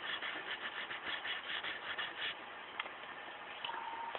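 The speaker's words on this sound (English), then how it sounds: "Polish the top of the rails a little bit, where I was sanding with the 180." White automotive sandpaper rubs back and forth across the tops of HO scale model railroad rails on a Peco switch, a close, steady rasping scrub in short strokes with no talk.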